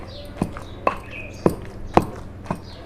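Coarse pounding of chopped onion in a mortar for a tamarind pickle, five distinct thuds spaced about half a second apart, close and clear.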